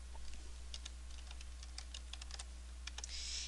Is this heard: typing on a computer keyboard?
yes